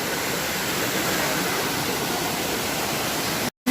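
The NagKalit-Kalit waterfall roars as a dense, steady broadband rush of falling water, close and uniform, ending in a sudden brief cut to silence.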